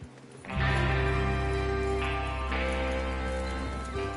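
Horses trotting in the video game Red Dead Redemption 2, a steady loud hoofbeat rhythm starting after a brief quiet moment and continuing with music-like tonal layers behind it.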